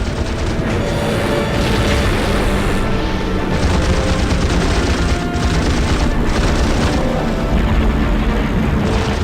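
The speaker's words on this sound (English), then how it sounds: "Bombing run." Bombing-run explosions in the Pacific naval combat game Heroes of the Pacific, a loud, dense wall of booms and rumbling blasts layered with rapid gunfire, continuous and overwhelming throughout.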